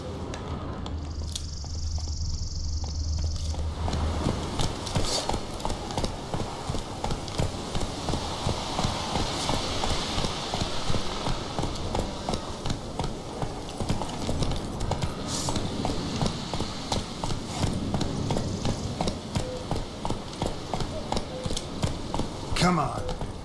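The horse Roach gallops in a video game with steady, continuous hoofbeats that carry through the whole stretch, and a voice talks over them.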